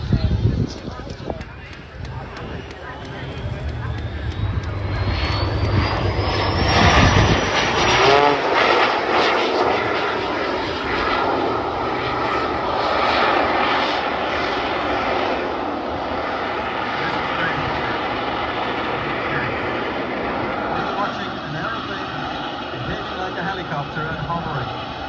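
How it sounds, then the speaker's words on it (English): A jet aircraft flies a display at an air show, its engine roar swelling and sweeping past as it climbs and passes overhead, then fading to a steady distant rumble, with crowd noise and talk faintly beneath. "Rich Goodwin's amazing display of the jet bits"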